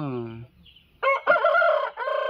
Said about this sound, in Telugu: ఇది వచ్చేసి కోడి కాకి డ్యాగ్ అండి